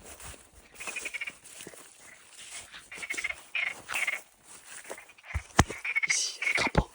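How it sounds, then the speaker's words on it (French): Toads croaking beside a wild lettuce field: repeated nasal, trilling calls in uneven bursts, near and fairly loud, with a few sharp knocks and rustles toward the end. "Ici, il y a des crapauds."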